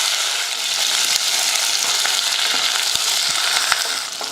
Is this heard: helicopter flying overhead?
no